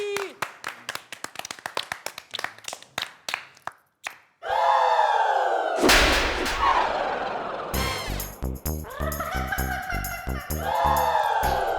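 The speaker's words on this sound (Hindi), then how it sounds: "अरे डांस टीचर के लिए ताली हो जाए," A group claps for a dance teacher. Sharp, scattered claps come first, then a loud burst of applause and cheering, mixed with music and voices.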